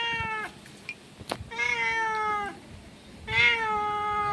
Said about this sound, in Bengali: খাবার চাইছে মাও করে।